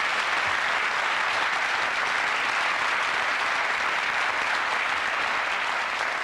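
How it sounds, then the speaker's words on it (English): Studio audience applause on a 1990 UK TV game show, Pyramid Game, a loud, even wash of clapping that holds steady throughout without any speech over it. "give him a round of applause"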